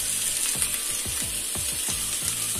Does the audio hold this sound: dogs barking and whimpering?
no